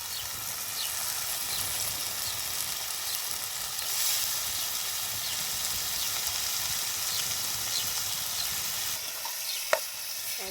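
Washed bitter gourd sizzles in hot oil with an onion tempering, a continuous bright hiss and crackle with a sharp clink near the end.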